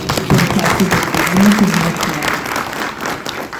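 Audience applause fills a conference hall during a talk on autism and disability in Africa, a steady broadband patter of many hands lasting a few seconds at close, even loudness.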